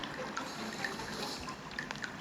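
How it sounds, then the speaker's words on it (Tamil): Watery bubbling and gurgling from a bubble sound effect in a Roblox escape school obby game, steady and close, with soft trickling pops throughout. "சவுண்டு பண்ணுங்க, பபிள் சவுண்டு ஒரு மாதிரி சாட்டிஸ்ஃபையிங்காக இருக்குது."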